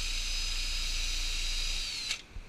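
Power drill boring a hole in wood for a dowel, a steady high whine held at close range that stops abruptly near the end, followed by a brief knock.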